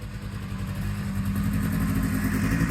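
A Yamaha Bravo snowmobile engine idles steadily while warming up, a close, loud, continuous low rumble with a slightly uneven mechanical clatter and no voices.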